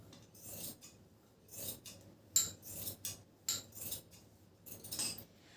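Scissors cutting fabric for palazzo pants, a series of short crisp snipping and rasping strokes in uneven bursts, close and fairly quiet.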